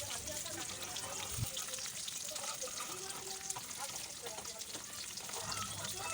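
Pieces of catla fish fry in oil with a continuous, fairly quiet crackling sizzle that runs steadily throughout, with a few faint clinks.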